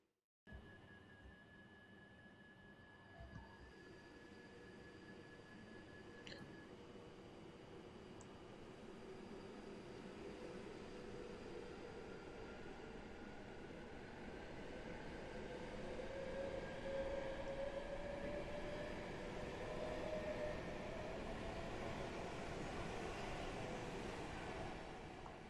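Train departing Milton Keynes Central station on the West Coast Main Line, starting with a high electronic tone and clunks, then rising into a building rumble and whine as it pulls away.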